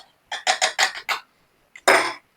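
Dry cocoa, baking powder and starch are mixed in a bowl, giving a quick run of five clinking, scraping strokes of utensil against the bowl, then a short pause and one louder scrape.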